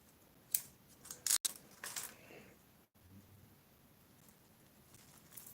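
Pruning shears snip branches from a jade bonsai tree, a few sharp close clicks and cuts near the start, then quiet handling noise.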